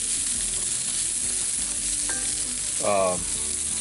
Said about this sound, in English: I've been just kind of giving this a toss around every 30 seconds or so.